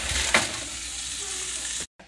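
Meatballs fry in a pot with a steady, soft sizzle, a brief clatter near the start and a short cut near the end.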